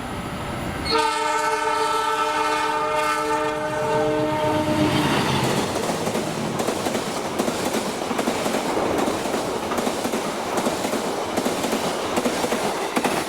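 An Indonesian priority train made up of TME cars passes by. A long horn blast opens, then a loud rush of wheels clatters steadily on the rails as the cars go past close by.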